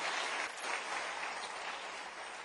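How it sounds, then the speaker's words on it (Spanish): A church congregation applauds the King, sustained and fairly distant, a soft continuous wash of many hands that dips briefly midway before carrying on. "Dale un aplauso al Rey bendito."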